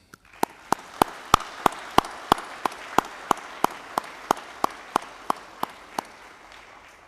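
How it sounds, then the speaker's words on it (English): An audience applauding Army families at a ceremony, heard as a sparse, evenly spaced series of about twenty distinct sharp claps over a faint hiss, fairly close and steady. "Please join me in a round of applause for all Army families."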